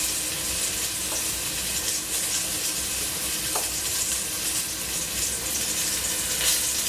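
Flour-coated beef tips browning in a pan, spaced apart, give a steady, even sizzle and crackle that holds at a constant level throughout with no talking.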